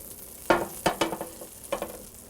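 Butter sizzles in a frying pan before eggplant goes in, a soft steady hiss with several sharper crackles and spatters, heard close and without talk.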